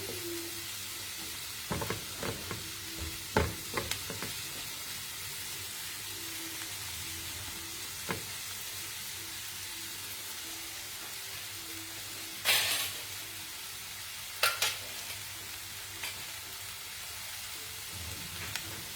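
Spices frying in a pan before paneer goes in, a continuous close sizzle with occasional louder spatters and scrapes of stirring, no talking.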